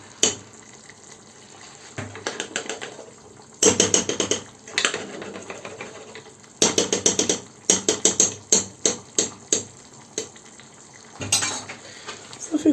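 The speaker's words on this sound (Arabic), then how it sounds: "صافي كنحركوها وكنخليوها باش تندمج مع الطماطم" Tomato paste being stirred into tomato sauce in a pot for a quick no-oven liquid pizza, heard as repeated clinks and scrapes of a utensil against metal in bursts, with quieter gaps between them and no talking.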